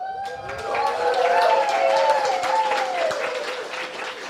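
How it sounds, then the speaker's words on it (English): Loud applause from a hackathon audience for the judges at a final demos livestream, sustained broadband clapping with crowd noise and a voice talking over it throughout. "Incredibly loud applause for the judges that are here today"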